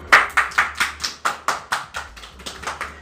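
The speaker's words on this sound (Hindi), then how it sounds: "तालियां बजाओ भाई" Steady, evenly spaced clapping for a child at a children's quiz competition, about a dozen crisp claps in three seconds, with no talking.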